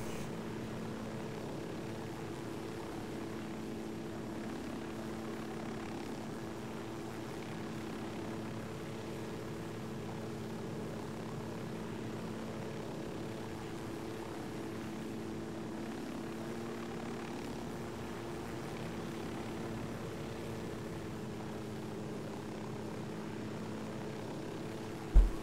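A helicopter flies in the video game Ghost Recon Wildlands, its rotor and engine giving a steady, droning hum that holds evenly throughout, ending in a sudden brief thump.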